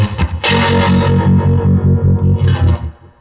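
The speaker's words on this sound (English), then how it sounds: "that's actually the vibrato that's on the amplifier that I was running" An electric guitar plays through a tube amplifier with its vibrato effect on, giving a loud, distorted tone that pulses in an even, rapid throb across the sustained notes.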